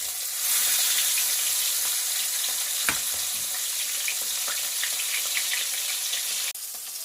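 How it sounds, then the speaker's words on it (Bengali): Fish pieces sizzling in hot oil in a wok, a dense, steady crackling fry heard up close throughout, with a few light clinks and a brief knock partway through. "এবার আমি এক এক করে মাছগুলোকে আমি এবার ভেজে নেব তেল আমার গরম হয়ে গেছে"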